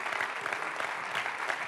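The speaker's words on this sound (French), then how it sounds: "on peut les applaudir" Applause from a conference audience at a business congress in Biarritz fills the space, a dense, steady patter of many hands clapping at moderate distance with no voices standing out.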